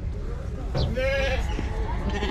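Goats at a livestock market give a short wavering bleat in the middle of the clip, heard under ongoing nearby talk and market bustle.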